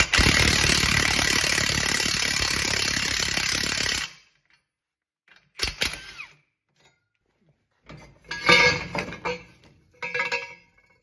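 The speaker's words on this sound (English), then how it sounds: "You put it in, you tighten this bolt," A bolt on an Astro Tools 78835 exhaust pipe enlarger is tightened with a loud, steady power-tool rattle for about four seconds. After a pause come a few shorter, choppy bursts of ratcheting and clunking.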